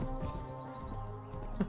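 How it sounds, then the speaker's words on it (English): Horse hooves clip-clopping in the video game Mount and Blade Warband: Viking Conquest, a few quick muffled hoofbeats over a low steady background hum. "Hey, people, we're riding a horse."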